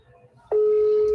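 A telephone tone sounds while a call waits to be answered: a faint murmur gives way to a sudden, loud, continuous steady tone that holds unbroken to the end.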